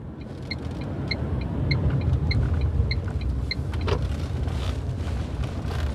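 An automatic car slows and pulls over to the roadside, heard from inside as a steady low engine and road rumble with a faint regular ticking, like an indicator, and no talking.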